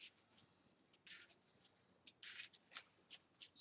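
A deck of cards for a Marvel Champions card game is shuffled by hand, quiet close riffles and slides in quick bursts, no talk.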